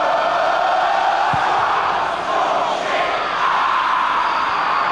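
A roaring home crowd at a Leicester City football match, a dense continuous wall of chanting and cheering, loud and steady with a brief dip in the middle.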